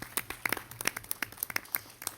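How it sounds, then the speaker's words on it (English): A small crowd at a school board meeting claps in scattered, uneven bursts, fairly quiet and a little distant, with no speech over it. "I want to give everybody a round of applause"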